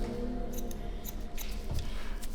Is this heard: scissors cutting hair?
yes